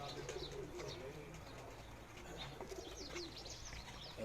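Pigeons belonging to a keeper give soft, low repeated coos with light chirps over steady background noise, and a voice is faintly present at moments.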